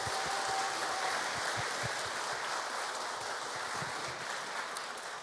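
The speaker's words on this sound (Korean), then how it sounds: "다시 한번 뜨거운 박수 부탁드립니다." An audience at a memorial ceremony for Son Byeong-hui claps, a soft, even, hissing wash of distant applause with a few low thumps, steady and fairly faint throughout.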